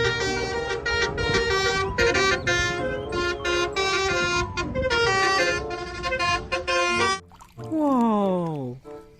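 A toy telolet bus horn plays a bright, multi-tone melodic honking for about seven seconds, followed by a shorter sliding tune, loud and close with no talking.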